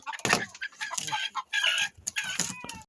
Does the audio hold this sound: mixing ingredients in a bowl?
no